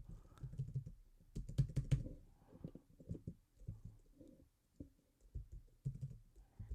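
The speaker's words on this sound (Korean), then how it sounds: "메시지를 한번 써보겠습니다" Keyboard typing of a message on a computer, quiet close key clicks in irregular bursts and pauses, with faint background sounds and no talking.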